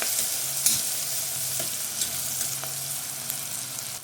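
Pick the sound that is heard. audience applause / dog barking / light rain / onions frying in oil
onions frying in oil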